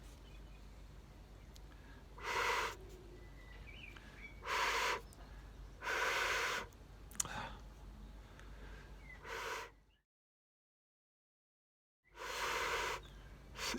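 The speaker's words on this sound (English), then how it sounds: "this is what we call a transverse flute" A homemade transverse flute gives five short, breathy blown notes with pauses between them, airy and rough rather than clearly pitched, in a quiet room with a brief silent gap near the end.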